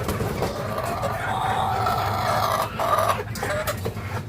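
A flock of hungry chickens with no feed in the yard, clucking and squawking restlessly in a loud continuous close chorus with some voices underneath.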